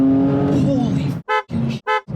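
Modified Porsche 992 Turbo S accelerating hard, a loud engine roar that breaks into short bursts as gears change, with excited voices over the top.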